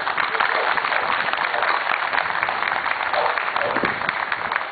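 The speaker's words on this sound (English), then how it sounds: "So give yourselves another round of applause." A crowd at an outdoor Second Amendment rally in Hartford applauding, a sustained, fairly distant wash of clapping with a few voices mixed in.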